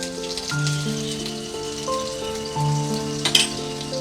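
Crushed garlic and ginger sauté in a hot pan with a soft, steady sizzle, accompanied by faint background music and a brief clatter near the end.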